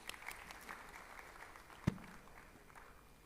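Soft, thin applause from an audience at a professional institute gathering, a faint scattering of claps with one sharp nearby clap or knock standing out midway.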